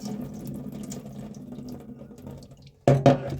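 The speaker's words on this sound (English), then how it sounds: "Here I'm washing my meat." Beef rinsed under a running kitchen tap: a steady, close stream of water splashing into a sink, swelling into a louder, heavier gush near the end.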